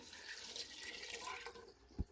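Water pours steadily into a cooking pot with cranberry and blueberry juice for blackberry jello, a continuous hissing splash that ends with a small knock.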